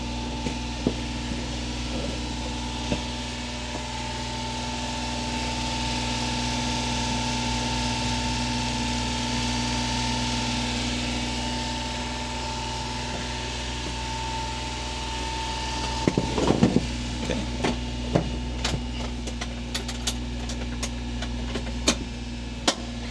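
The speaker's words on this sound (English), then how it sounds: "And it is in its cold start, so it's still going to be higher in RPMs for a little bit." A 1994 Suzuki Carry widebody minitruck idles at cold start with a slightly raised, steady hum and faint vibration, then a burst of clattering and knocks near the end as the engine compartment is opened.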